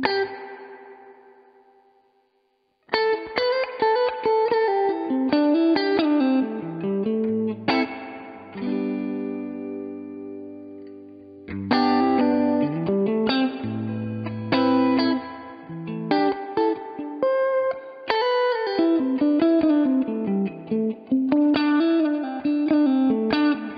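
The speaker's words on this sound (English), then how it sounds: "Decay here with the reverb." Guitar played through a Milkman 100 amp with reverb, notes and chords ringing out and decaying in a spacious, shimmering tail; loud, close, and no one talks.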